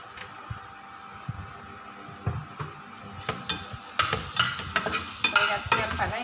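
Garlic frying in hot oil in a pan, a steady crackling sizzle that turns busier and brighter toward the end, with stirring scrapes and clicks close by.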